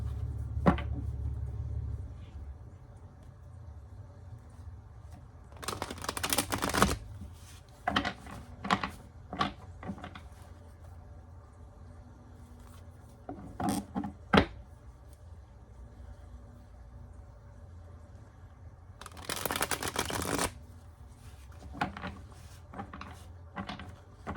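Tarot cards are handled and shuffled in a quiet room: soft scattered rustles and taps with two louder riffling bursts partway through.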